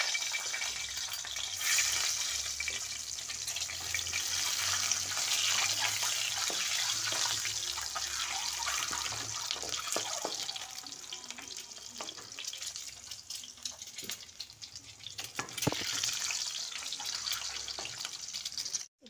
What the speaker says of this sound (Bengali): এবার আমি ডিমগুলোকে হালকা করে ভেজে নেব